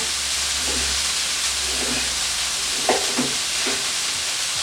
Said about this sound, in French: On les fait un petit peu sauter